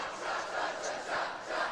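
Basketball cheering section crowd roaring and yelling continuously during free throws late in a game, a dense steady wash of voices with swelling peaks.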